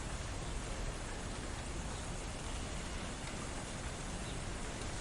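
Heavy rain pours in a dense, unbroken broadband hiss, steady and loud throughout with no voices or distinct drops standing out.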